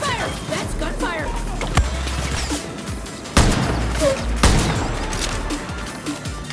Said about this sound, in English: Gunfire! That's gunfire!